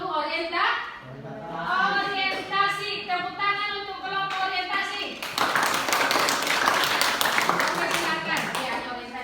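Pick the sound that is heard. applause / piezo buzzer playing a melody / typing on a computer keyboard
applause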